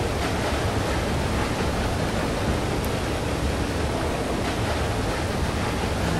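Rushing water in the video game Limbo makes a loud, steady hiss of broadband noise, continuous and unchanging throughout.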